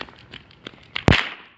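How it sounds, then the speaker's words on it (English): Firecrackers set off outdoors, with a few small pops and then one loud, sharp, close blast that rings briefly before fading. "Got some firecrackers."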